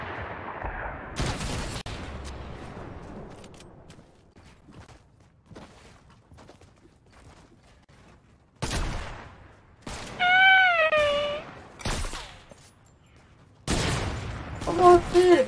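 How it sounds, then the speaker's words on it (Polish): Gunfire in the Fortnite video game comes as several loud bursts of rapid shots, some close and some more distant, with quieter stretches between them. A player's altered, pitch-shifted voice speaks over parts of it. "Uważaj, bo tu się strzelają."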